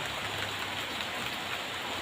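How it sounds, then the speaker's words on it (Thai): Steady light rain falls, a continuous even hiss of drops on surfaces with no pauses and no voices. "กำลังอากาศเย็นชื่นฉ่ำฝนตกดูสิเนี่ย ตกไม่แรงดอกดูท่าทางจะตกนาน"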